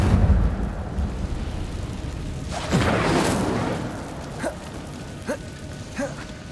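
The Incendio fire spell is cast in Hogwarts Legacy: a deep rumble gives way to a roaring, whooshing burst of flame lasting about a second, then fades into low rumbling with a few short tonal blips.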